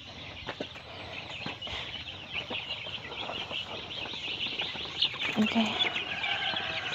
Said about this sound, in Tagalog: Nagpakaon pa og manok ng papa.